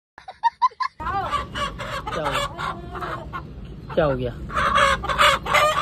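Chickens cluck loudly and close by, with a few sharp clucks at the start, then ongoing clucking and squawks as a person talks briefly.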